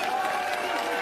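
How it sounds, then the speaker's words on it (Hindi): A crowd at a political rally applauds in a dense, continuous wash of clapping and cheering that lasts about a second. "तो सुल्तानपुरी के लिए जोर से तालियां बजाइए"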